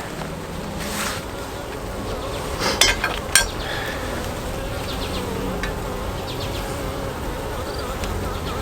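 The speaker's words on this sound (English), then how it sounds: "there's actually just a lot of bees running around on the bottom" Honey bees buzz and crawl inside an opened beehive, a steady close hum of many insects with a few brief clicks and knocks of hive equipment, no speech.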